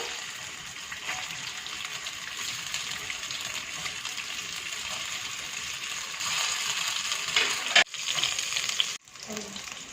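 Homemade koftas sizzle and fry in a small amount of oil in a pan over medium-low heat, giving a steady broadband crackle and hiss that stays close and continuous, with a few brief clinks near the end.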